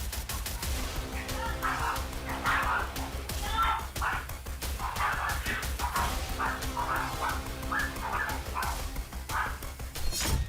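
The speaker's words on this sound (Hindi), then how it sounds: "उसने बुरी तरह घबरा रहे अपने पालतू कुत्तों को गोद में उठाया" Frightened pet dogs barking, yipping and whimpering during an earthquake, repeated bursts of yelps and barks at close range over a low background rumble.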